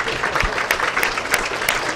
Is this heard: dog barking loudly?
no